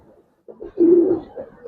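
Old pigeons of a traditional local breed coo close by, one soft throaty coo rising into a longer rolling call, followed by a couple of shorter murmurs.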